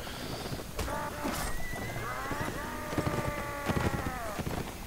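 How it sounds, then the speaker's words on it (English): An armored horse in the Mount & Blade video game neighs in a long, clear whinny near the middle, with hoof clatter and battle noise continuing throughout. "Oh, that's the bishop on the armored horse."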